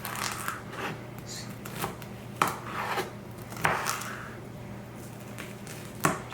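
A knife cuts peppers into thick julienne strips on a board. The chops come as scattered, crisp taps close by, with short gaps between strokes.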